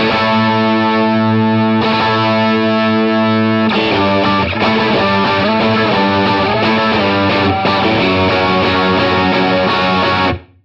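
Distorted electric guitar chugs chords in a quarter-note triplet rhythm across the beat, from a song lesson; loud and continuous with dense sustained harmonics, alone with no talking.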